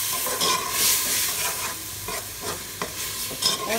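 Potatoes and fenugreek leaves stirred in a frying pan with salt, a continuous close sizzle broken by repeated scraping strokes of a spoon over a few seconds.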